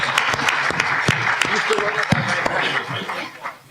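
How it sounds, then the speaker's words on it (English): Scattered audience applause mixed with light laughter at a public forum on Illinois pensions, with distinct individual claps over a murmur of voices. "Give her a round of applause."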